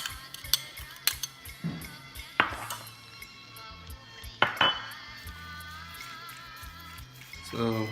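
Utensil clinking and scraping in a bowl while Khmer egg roll filling is mixed, with irregular sharp clinks and soft rattling over several seconds and a faint voice underneath.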